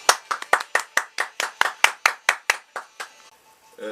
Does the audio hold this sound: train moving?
no